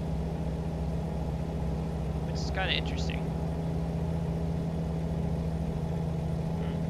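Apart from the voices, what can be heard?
Volvo truck engine brake in American Truck Simulator video game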